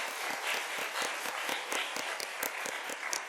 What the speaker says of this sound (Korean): 우리 청년들을 위해서 다시 한번 크게 박수 하겠습니다